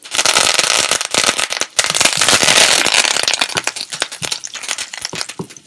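Mustard seeds, cumin and curry leaves crackle and pop loudly in hot oil, a dense, continuous spatter of sharp bursts, with no talking.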